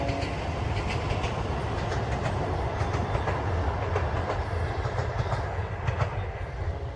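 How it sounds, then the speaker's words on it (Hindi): A train running from Kamtaul to Darbhanga rolls past on a rural railway line beside a village, its steady rumble and rhythmic wheel clatter loud and continuous throughout. "देखियो कमतौल से दरभंगा ट्रेन जा रहल छे।"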